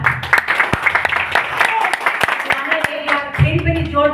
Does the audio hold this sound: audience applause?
yes